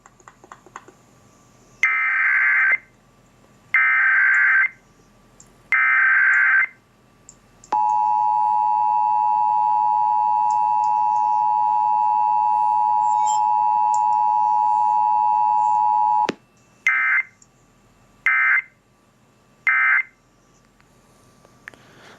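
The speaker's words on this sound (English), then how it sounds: "Let's try to play some EAS tones through it" Three loud header-style EAS emergency alert data bursts, a long steady electronic attention tone for about eight seconds, then three more short bursts, played through the small speaker of a Sangean CL-100 radio.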